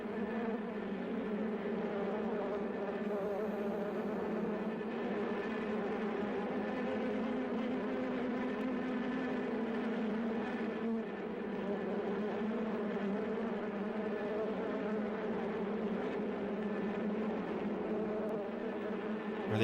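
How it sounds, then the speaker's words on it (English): Continuous loud buzzing of a large bee swarm, a steady droning hum that fills the whole stretch without talk. "That's a lot of bees."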